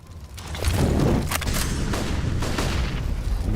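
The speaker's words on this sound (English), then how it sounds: "Nice stream of flashbangs." Rapid string of flashbang grenade blasts in a Counter-Strike match, several sharp booming pops in quick succession over a dense layer of gameplay noise, loud and close, without talk.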